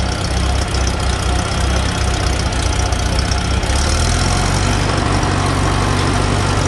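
A lawn mower engine runs at a steady, loud idle after a choke start, with an even, unbroken drone throughout.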